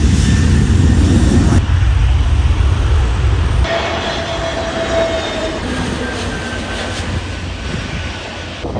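Boeing 737 airliner at Lisbon Airport, a loud, continuous engine roar that eases slightly after a few seconds, heard from nearby without talk.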